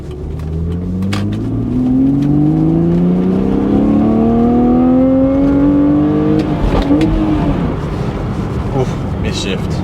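A car accelerates hard under heavy revving, its engine note climbing steadily and then dropping at a gear change to second around the midpoint, loud and close throughout, with a voice talking faintly over the engine.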